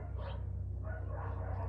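A dog barks outdoors, fairly faint and distant, two bursts over a steady low hum of outdoor background noise.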